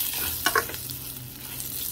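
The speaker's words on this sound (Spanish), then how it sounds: "ya dejo que se dore el arroz" Rice browns in a small pot of about 1.5 litres with a soft, steady sizzle, and a couple of brief stirring clicks come near the start; no voices.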